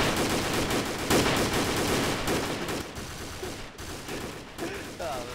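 Sustained gunfire in the video game Arma 2, dense overlapping rifle and machine-gun bursts pounding steadily during an ambush before thinning into scattered shots, with shouted voices mixed in.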